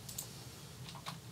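A few soft clicks of typing on a computer keyboard as an address is entered into dispatch software, faint and close over a low background hum.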